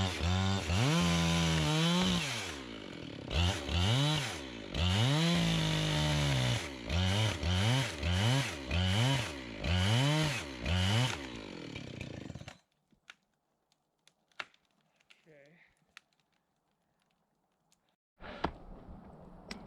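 A chainsaw cuts through a huge fallen tree log, with repeated loud revving surges and throttle dips over about twelve seconds. It then drops to a faint idle and near quiet before a brief final burst.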